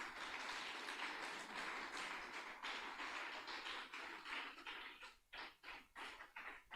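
A church congregation applauds during a Christian sermon, a dense, steady wash of many hands clapping that thins toward the end into a few separate claps.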